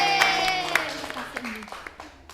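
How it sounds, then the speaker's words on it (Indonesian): A classroom group breaks into short, light applause, scattered claps fading quickly over about two seconds, with a voice briefly audible at the start. "tepuk tangan"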